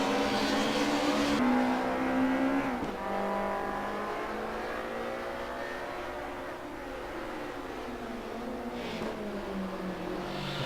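Race car engines from the Assetto Corsa sim at Vallelunga drone steadily, their pitch rising and falling through gear changes as cars run close together in a slipstream battle, with a sustained roar throughout.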